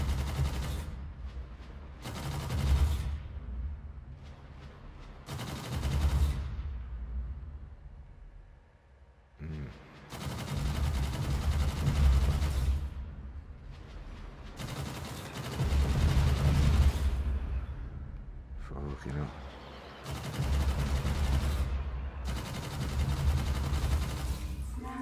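Gunfire bursts in the Gunjack VR shooting game, repeated loud blasts of rapid shots in clusters separated by brief pauses, with a person talking at times.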